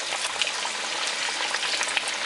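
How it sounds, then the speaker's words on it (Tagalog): Chicken pieces frying in hot oil for sweet and spicy fried chicken, a dense continuous sizzle with small crackles and pops, close and steady without any talk. "So ngayon, magpiprito na tayo."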